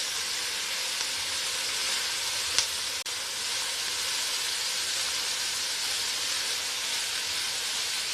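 Carrot, onion and pork stir-frying for spicy Korean pork bulgogi, a steady loud sizzle and hiss from the pan throughout, with a couple of brief utensil clicks.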